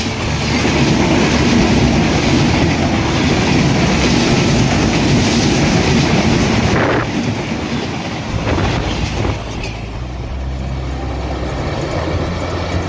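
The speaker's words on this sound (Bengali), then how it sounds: "রাজশাহী থেকে ছেড়ে আসা ঢাকাগামী 760 down Padma express Azimnagar railway স্টেশনের 1 নম্বর লাইন দিয়ে এই মুহূর্তে প্রবেশ করছে" The Dhaka-bound 760 Down Padma Express from Rajshahi, hauled by a 6625-series American locomotive, rolls into Azimnagar station on line 1, a loud, close, continuous rumble with clattering wheels that eases slightly as it slows.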